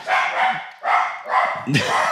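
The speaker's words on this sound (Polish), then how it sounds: "Piesek." A dog barks in a few loud, close bursts with short pauses between them, in a clear and fairly prominent stretch.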